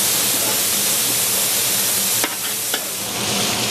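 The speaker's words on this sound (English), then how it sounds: "with the meat starting to brown a little bit" Six pounds of lean ground meat browning in a pot for Irish chili gives a steady, dense sizzle close up, with two brief sharp crackles partway through and no talking.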